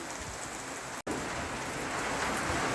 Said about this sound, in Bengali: খুব বৃষ্টি হচ্ছে বন্ধুরা আমাদের এখানে, কলকাতাতে খুব বৃষ্টি হচ্ছে